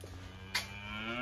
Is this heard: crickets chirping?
no